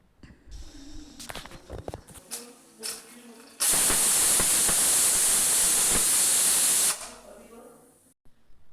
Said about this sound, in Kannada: ಎರಡು ವಿಜಿಲ್ ಹಾಕ್ಸ್ಕೊಬೇಕು